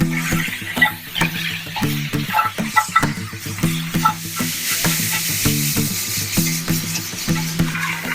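Corned beef ribs frying in a little fat with salt and pepper, a loud close sizzle under rhythmic scraping and clinking of a spoon stirring the pan, with a steady low tonal hum throughout.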